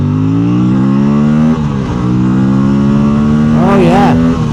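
An Aprilia Tuono 457 motorcycle pulls hard in second gear, its engine note rising steadily, dipping briefly, then climbing again, loud and close with rushing wind throughout.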